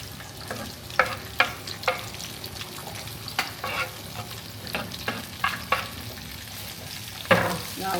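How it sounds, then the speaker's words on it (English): Vegetables fry in hot oil in a pan, a constant close sizzle broken by repeated scraping stirs and clacks of the utensil, with no talking. "I'm going to add the veggies to the hot oil."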